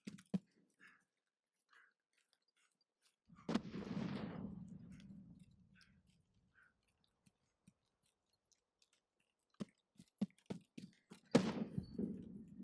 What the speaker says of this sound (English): Explosions to the left, which means it's probably at the lumber mill.